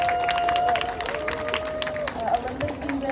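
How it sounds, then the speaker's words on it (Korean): Rally crowd at a Palestine solidarity protest applauding and cheering a speaker being welcomed, steady clapping and scattered shouts under a voice talking over a microphone. "큰 박수와 함성 부탁드립니다"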